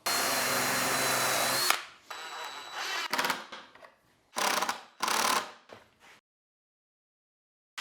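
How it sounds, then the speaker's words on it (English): A power drill drives screws into a wooden crosscut and rip jig for a circular saw. There is a long steady whir, then several shorter bursts of varying length, close and loud, and no talk. "Now I'm going to drive a screw on each end to hold it in place"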